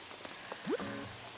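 Soft steady rain patters in the Animal Crossing: New Horizons video game, a faint even hiss with a short gliding animal-like call near the middle.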